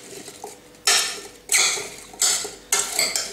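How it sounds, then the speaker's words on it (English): Apples tossed with cinnamon sugar in a bowl for an apple and pear crumble, stirred in four separate scraping, clattering strokes, each sharp at the start and then fading, close and clear with no talking. "And I'll just stir it around."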